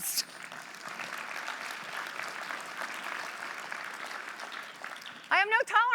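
A conference audience claps throughout at a fairly soft, even level. Near the end the applause thins and a speaking voice cuts in over it.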